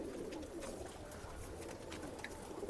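Rekadar pigeons in a Bangalore breeding loft, their soft low cooing steady and continuous throughout, with a few faint higher bird calls above it and no talk.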